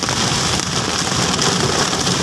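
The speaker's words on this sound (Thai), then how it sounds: "ฝนตกด้วยครับ" Steady, dense rain falling outside a taxi in Bangkok on an evening street: a loud, continuous hiss of downpour with no talking.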